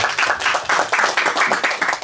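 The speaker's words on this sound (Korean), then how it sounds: "다시 한번 박수 부탁드리고요" Audience applause at a university library book reading event in Busan: a steady, fairly loud patter of many hands clapping in close rhythmic bursts throughout, with no voices over it.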